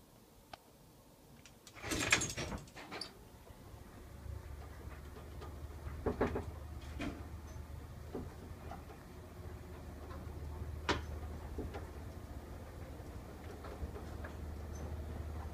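An antique Otis bottom-drive winding-drum gated elevator, its hoist running on rope rather than steel cable, gives a low steady drone with scattered clicks and clunks. A louder mechanical clatter comes near the start, and no one speaks.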